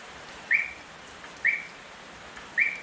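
Three short high whistle chirps spaced about a second apart, each brief and sharp over a quiet background hiss, from an add-on whistle fitted to a Volkswagen Kombi van.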